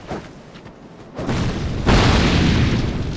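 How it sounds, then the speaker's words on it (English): A firebomb explodes in Dark Souls 2: Scholar of the First Sin, a sudden loud, close boom that flares into a sustained roaring burst, following quieter rumbling game ambience. "If they wanna throw firebombs"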